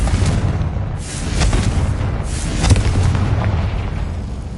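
Confringo fire spell explosions in the video game Hogwarts Legacy: loud, rumbling blasts rolling into one another with a sharper burst near the end, over dense game noise, no talk.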